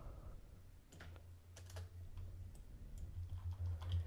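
Computer keyboard arrow keys are tapped repeatedly while editing product photos in Photoshop, a quiet run of irregular clicks spread across several seconds over a low hum.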